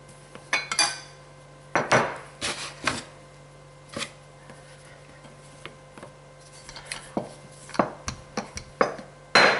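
Ravioli dough being cut into a strip and rolled out on a floured surface, heard as scattered light knocks, taps and clatters of tools, close and irregular, with quieter stretches between.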